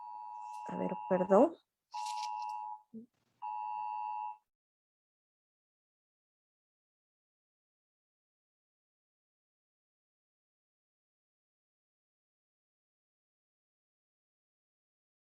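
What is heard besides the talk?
alarm beeping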